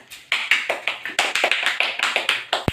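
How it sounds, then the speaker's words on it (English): Classroom applause for a student during a microteaching lesson, a steady run of close, crisp claps from a small group lasting a few seconds. "Let's give applause to Yusuf."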